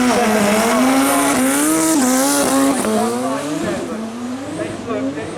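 A turbocharged 1298 Suzuki Hayabusa motorcycle runs the quarter mile at the 2019 Brighton Speed Trials, its engine a loud, close, high-pitched whine that climbs, dips and climbs again through the gears.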